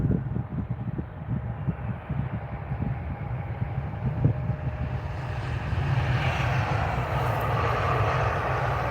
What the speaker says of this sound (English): This is British Airways coming in.